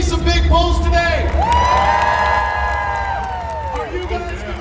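A crowd at a women's elephant bar deadlift world record competition cheers and whoops loudly, with high shouts and sustained voices rising over the arena noise, fading slightly toward the end.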